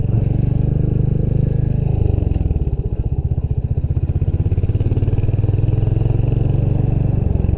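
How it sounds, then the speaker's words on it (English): A Hunter 350 motorcycle single-cylinder exhaust burbles at low revs with a steady, even thump, heard up close from the rider's position, dipping slightly before settling again. "At slower speeds, that exhaust note really becomes pleasing"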